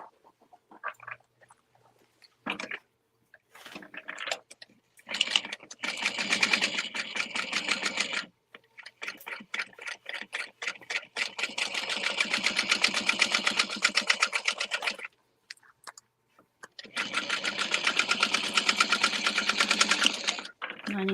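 Sewing machine topstitching a vinyl bag with lining, running in several loud, close bursts of rapid needle chatter separated by pauses and short stop-start stitches, with people talking in between.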